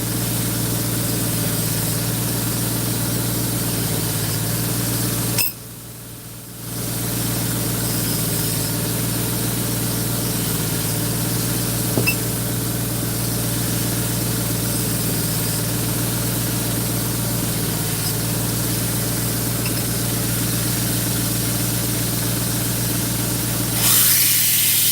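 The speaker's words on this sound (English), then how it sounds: "So I'm just using the 240 grit wheel" Steady grinding hum of a knife being sharpened on a 240 grit wheel, running continuously with a brief drop partway through, alone without speech.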